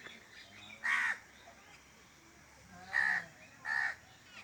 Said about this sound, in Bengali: তারপরে কাক ডাকছে।